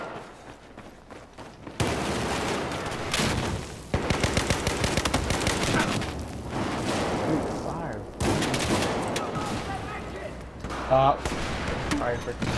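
Rapid bursts of gunfire and automatic weapon fire from a shooter video game crackle loudly through most of the stretch, with dense volleys and brief lulls.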